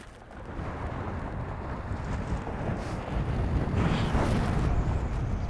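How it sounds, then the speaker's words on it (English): Steady, rushing wind roars across the microphone over water at Coffs Harbour with a broad, gusty wash that swells slightly toward the end; no voices. "Pretty windy."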